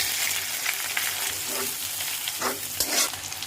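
Eggs frying in a pan with onion and green chillies, a steady close sizzle broken by repeated scraping stirs of a spatula against the pan, no voices.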